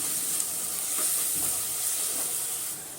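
Ground cumin, pepper and garlic paste sautéing in a pan for a plantain dish: a steady, close sizzling hiss with soft stirring scrapes underneath, continuous and without talk.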